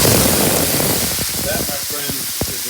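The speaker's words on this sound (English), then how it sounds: "We're going to grab this, throw it on the pan." A tomahawk steak drops onto a smoking hot oiled pan, bursting into a loud, steady sizzle and hiss with a few sharp crackles, close by.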